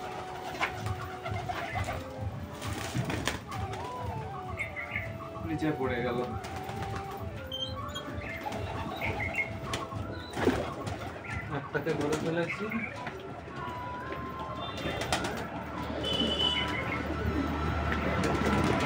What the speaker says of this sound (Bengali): সবকটা পায়রাকে ঘরে ঢোকানো কমপ্লিট হয়ে গেছে